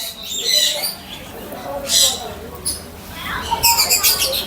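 Colourful birds at a hand-feeding bird park in Kerala chirp and squawk in short, bright bursts, some close and loud, with a few pauses between calls and a denser flurry at the end.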